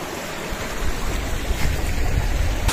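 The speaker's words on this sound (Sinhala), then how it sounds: "මේ චූටි වතුර පාරක් යනවා." A small hill stream runs over rocks near a waterfall, a steady close rushing and gurgling of water that fills the whole stretch with no talking.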